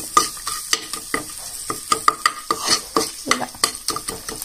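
Ginger garlic paste and turmeric fry in a pan for a ridge gourd chutney, with a crackling sizzle cut by rapid, rhythmic spatula strokes and clinks close by.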